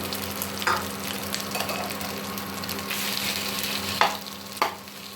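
Chilies sizzle steadily in a little hot oil as they are stir-fried for a Thai chili dip, with a few sharp scrapes and clinks of a utensil against the pan.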